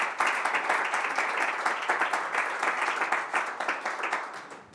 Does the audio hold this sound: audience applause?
yes